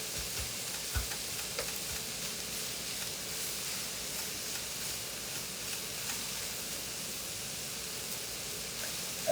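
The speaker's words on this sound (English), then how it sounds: "I'm just going to sweat that onion out a little bit." Onion sweating in a frying pan for cottage pie gives a soft, steady hiss and gentle sizzle, fairly quiet and constant, with a faint knock or two and no speech.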